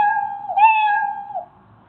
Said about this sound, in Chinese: 它一共只喵喵了2次